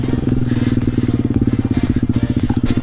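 A pit bike engine revs steadily while being ridden, a loud, close, continuous pulsing drone with rapid rhythmic fluctuations throughout.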